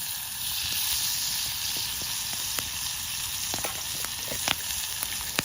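Steak sizzling in a pan at a cold mountain camp, with a steady loud frying hiss throughout and occasional crackles and pops near the end.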